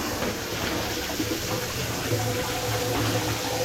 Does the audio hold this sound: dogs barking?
no